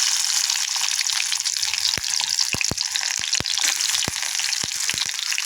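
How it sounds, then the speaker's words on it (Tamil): Sizzling of onions frying in hot oil, a steady bright hiss with scattered sharp pops and crackles throughout, close and continuous with no talk. "பொரிஞ்சிருச்சு வெங்காயத்தை சேர்ப்போம்"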